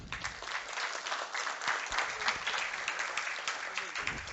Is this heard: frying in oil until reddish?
no